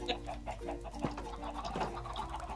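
A video game chicken clucks in short, choppy bursts over a steady low hum, with a few sharper squawks.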